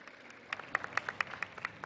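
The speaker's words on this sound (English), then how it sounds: "I thought you would applaud that." Faint, thin applause from a keynote audience at a women's summit, a sparse scattering of hand claps that starts softly and picks up briefly, sounding distant and small rather than a full ovation.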